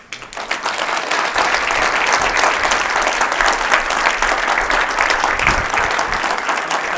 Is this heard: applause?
yes